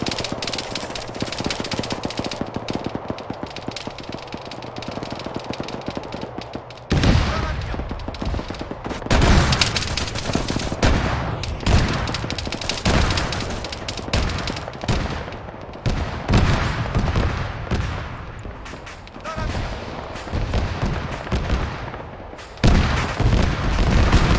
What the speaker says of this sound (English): here comes the missile barrage